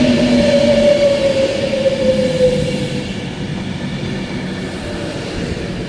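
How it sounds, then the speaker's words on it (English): An Avanti West Coast train to Glasgow rumbles into a station platform close by, a loud steady roar with a fading tonal whine as it slows, no voices heard. "Your Glasgow train is here."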